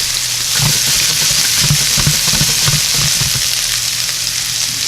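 Cheesesteak stuffed peppers sizzling in a hot pan, a steady loud frying crackle that holds for the whole stretch with no one talking.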